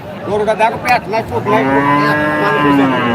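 A red cow moos repeatedly at a cattle market, the long drawn-out calls close and loud over a background of crowd murmur.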